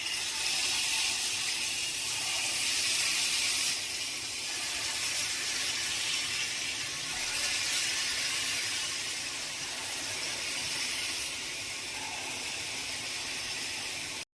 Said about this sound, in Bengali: এবারে আমি সেম পদ্ধতিতে সবগুলো মালপোয়া এরকম ভাবে ভেজে নেব